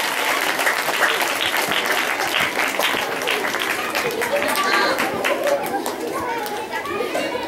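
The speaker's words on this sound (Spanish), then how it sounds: "recibamos con fuertes aplausos a nuestro alcalde auxiliar" Dense audience applause at a school event welcoming the auxiliary mayor, many hands clapping steadily, with children's chatter and crowd voices mixed in throughout.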